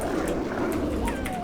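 Dogs in World of Warcraft let out several short whimpers and yips, close and fairly loud, over a steady rushing background and a faint voice.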